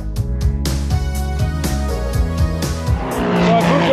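GT race cars exit turn 2 at Paul Ricard and run up over the curb, engines roaring loud and close with rising and falling revs, gear changes and a harsher rasp building toward the end.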